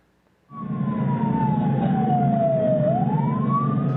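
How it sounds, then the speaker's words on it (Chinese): After a brief quiet moment, a fire engine siren starts loud and near, wailing down slowly and then rising again over a heavy engine rumble, arriving at a house fire. "消防车赶到火灾现场，火势已经全面燃烧"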